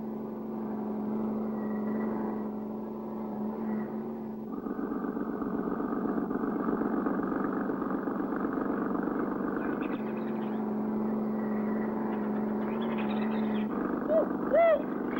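A cartoon car engine drones steadily through a chase scene, with its pitch shifting in steps. Voices and music play over it.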